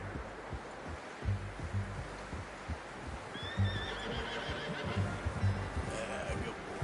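Horse whinnies and snorts in the open-world western game Red Dead Redemption 2, with clip-clop footfalls and rustling underneath and brief talk around it.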